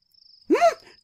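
A frog in the video game Halloween Trinity gives a single short, rising croak over a faint high steady tone.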